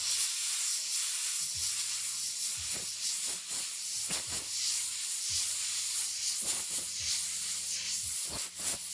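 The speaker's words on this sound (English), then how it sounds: "See, I'm spraying air but no paint." An airbrush sprays plain air with no paint while a model horse's flaxen mane is being painted, giving a continuous soft, close hiss that swells and dips slightly with small clicks.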